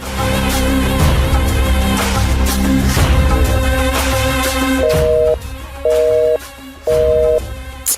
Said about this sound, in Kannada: ಇದ್ಯಾಕೆ ಫೋನ್ ಕನೆಕ್ಟ್ ಆಗ್ತಿಲ್ಲ?